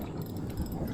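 A fishing reel wound up on a river boat, a close continuous ratcheting clicking that runs steadily through the short moment.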